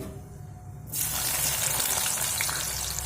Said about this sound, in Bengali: তো মিডিয়াম ফ্লেম করে পেঁয়াজটা ভেজে নেব